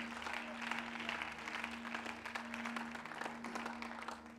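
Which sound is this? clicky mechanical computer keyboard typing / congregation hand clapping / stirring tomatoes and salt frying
congregation hand clapping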